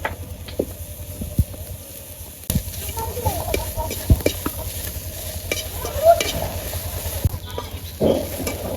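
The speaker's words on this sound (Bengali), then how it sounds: "ভর্তা করার জন্য কিছুটা পেঁয়াজ বেজে নিব" Onions frying lightly in a pan for bharta, a steady close sizzle broken by scraping stirs and occasional clanks of a spatula against the pan.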